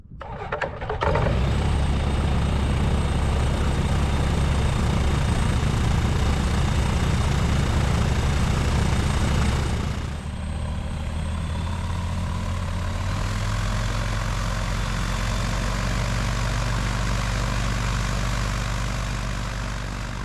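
A Tecnam P96S Golf light aircraft's propeller engine starts up, then settles into a loud, steady close-up drone that drops to a slightly lower idle partway through, with no talking.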